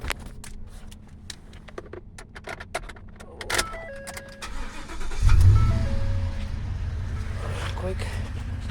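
A 2014 Ford F-150 SVT VelociRaptor with a Hennessey conversion has its engine started partway through, then settles into a deep, steady rumble close by as people keep talking.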